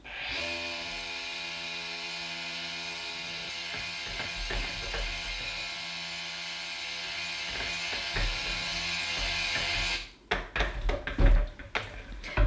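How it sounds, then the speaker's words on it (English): Electric stick blender whirring steadily through cold process soap batter mixed with lye and fragrance oil, a continuous near motor drone for about ten seconds before stopping, followed by a few clattering knocks. "I just sort of mixed the lye and everything together. So I am going to give it a blend."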